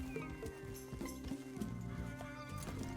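Horse hooves clip-clopping at a steady walk in Red Dead Redemption II, with a whinny over game ambience, moderately loud and with no speech.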